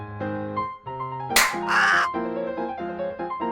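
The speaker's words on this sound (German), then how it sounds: "Sieht aus wie eine Art Vogel oder sowas." Bird in a video game giving a few raspy cawing calls over a layered musical background, interrupted by a sharp slap-like noise burst in the middle.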